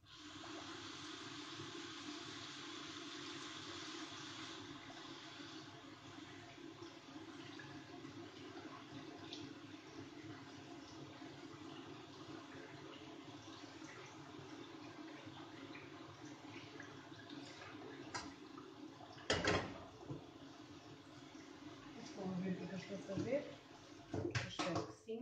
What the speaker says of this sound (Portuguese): Vou agora passá-lo muito bem com a água.